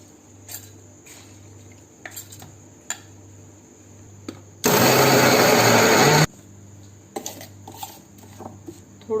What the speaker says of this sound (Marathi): आता हे मिक्सरच्या भांड्यात बारीक करून घेऊया।